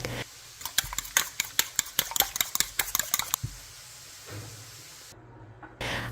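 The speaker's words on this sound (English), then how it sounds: "I whisk 1 room temperature egg, 2 tablespoons milk, and a pinch of salt." A whisk beats one room-temperature egg with milk and a pinch of salt in a bowl, giving a quick series of sharp, close clinks against the side that stop after about three seconds, followed by quiet kitchen background.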